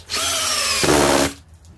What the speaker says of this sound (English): Now the standard drill.